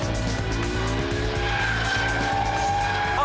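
A tuned car engine revs hard and climbs in pitch as it accelerates, loud and close, with a rasping exhaust and tire noise.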